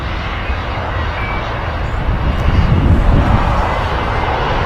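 A TUI Boeing Dreamliner touches down on runway 23 right at Manchester Airport, its steady broadband engine roar rumbling from a distance and swelling slightly midway through, with no voices.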